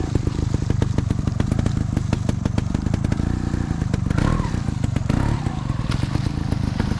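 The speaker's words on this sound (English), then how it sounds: "Just get comfortable with the feeling of the bike swinging just a little bit and having a nice controlled placement with the front tire." Motorcycle executing a slow floater turn, the engine rumbling steadily at low speed with some clatter and scraping, close by, with the front tire swinging under control and no talking.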